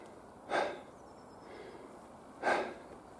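Two heavy, breathy exhalations about two seconds apart, close to the mic, with quiet hiss between them.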